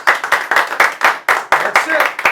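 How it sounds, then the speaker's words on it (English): A small group in a cigar box guitar building class in Bogotá, Colombia claps close by in sharp, rhythmic bursts, about a dozen distinct hits in quick succession. "Let's give him an applause and a round of applause."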